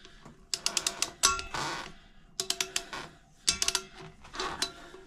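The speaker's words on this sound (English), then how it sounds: "So I have my torque wrench right here, and I already have it set for 36 foot-pounds." Torque wrench set to 36 foot-pounds tightening rear pulley bolts on a 2019 Harley-Davidson Softail Slim, quick bursts of ratcheting clicks in several separate groups, close and fairly quiet.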